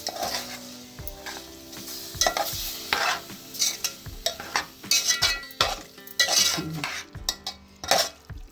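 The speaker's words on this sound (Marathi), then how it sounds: "माकुल टाकल्यावरती व्यवस्थित ढवळून घ्यायचं।" Squid masala being stirred in a pan, the spoon scraping and clinking against the metal over a steady sizzle, in irregular strokes close by with no talk.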